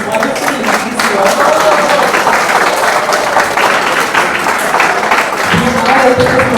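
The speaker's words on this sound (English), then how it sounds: "please give a round of applause to these wonderful ladies here" Audience applause for a panel of women closing a forum at a glamour event, a steady dense wash of clapping throughout with talk and music mixed underneath.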